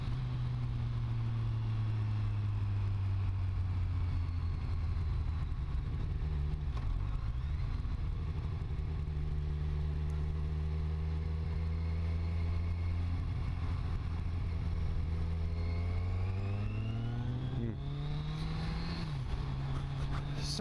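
A Kawasaki Z1000 motorcycle engine drones steadily on a morning ride, its low hum holding pitch before rising as it accelerates near the end, with wind noise throughout.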